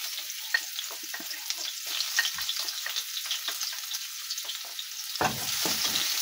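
Garlic sizzling and frying in a pan for Filipino menudo, a steady close crackle with scattered pops and a brief stir near the end.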